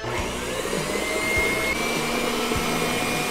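Electric mixer beating lemon muffin batter with lemon flavouring and milk, a constant loud whirring drone with a few dull knocks of the beaters against the bowl.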